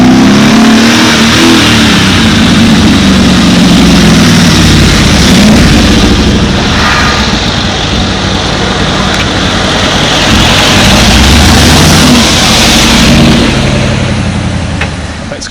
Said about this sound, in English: The great G63 AMG, that V8, that twin turbo, that power, it's incredible.